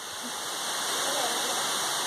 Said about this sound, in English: It's called a waterfall, Kevin.